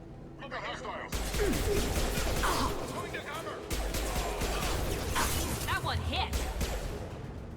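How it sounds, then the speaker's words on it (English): Gunfire from Blue Suns mercenaries and Vorcha in Mass Effect 2, a loud steady barrage of rapid shots with whooshes and crashes, under voices talking. "The Blue Suns and Vorcha are shooting anything that moves."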